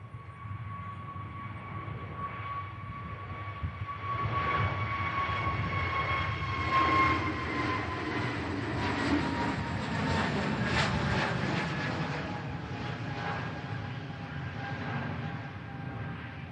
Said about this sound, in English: Here goes the KLM. Heading back to Amsterdam Schiphol.